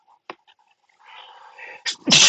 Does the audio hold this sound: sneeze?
yes